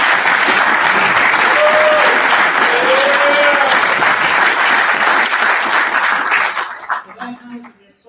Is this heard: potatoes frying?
no